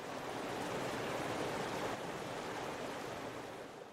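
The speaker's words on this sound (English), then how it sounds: "that rushing river around you" A rushing river flows in a steady, dense broadband wash of water, continuous and moderately loud, easing slightly toward the end with no voices.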